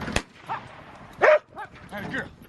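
Dogs bark and yelp in short, scattered bursts at a bear, a loud sharp bark standing out midway among softer yips, with faint voices between.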